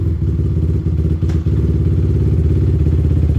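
Honda 450R with a big bore engine build, running while warming up, a loud, close, steady thumping single-cylinder idle with a harsh barking rhythm and a couple of brief knocks, no talk.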